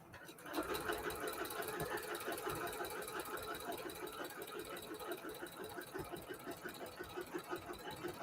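A sewing machine runs steadily, its fast needle rhythm a continuous, fairly quiet mechanical chatter that starts after a brief pause and continues throughout, including some back stitching.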